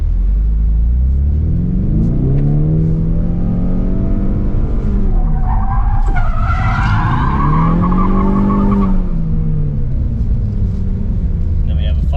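A 2024 Ford Mustang S650 drifts in first gear on a track using the drift brake: loud engine revs rise and fall while tyres screech and skid through sweeping slides, with voices talking over it.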